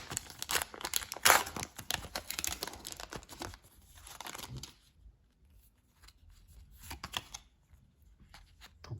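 Panini FC 2022 football card packs being torn open, a series of close, loud crinkling and ripping foil bursts that fade into quieter rustling and sporadic handling of the wrappers and cards.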